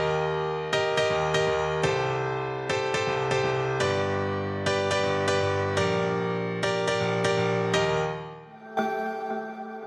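FL Keys piano processed with FL Studio stock effects plays sustained chords with a melody on top, rich and reverberant, closing with a brighter, thinner phrase near the end; no voices.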